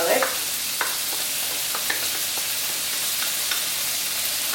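Garlic frying with green beans in a pan, a steady close sizzle with a few soft stirring scrapes and taps spread across it.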